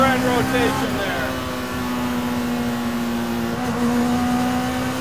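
A custom mid-engine Mini whose engine revs to 13,000 RPM holds a loud, steady high-pitched drone from start to finish, sliding through slight pitch changes, with a voice talking over it.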